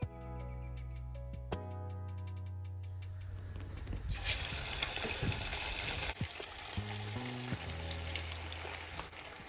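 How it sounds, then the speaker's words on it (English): Battered chicken pieces fry in a pot of hot oil, a steady loud sizzle and crackle that swells as more pieces go in, with a low hum beneath and no talking. "You want to fry it in batches."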